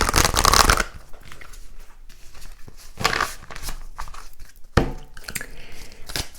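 Oracle cards are shuffled in several loud riffling bursts, close to the microphone, during a tarot-style reading, with quieter handling rustles between the bursts.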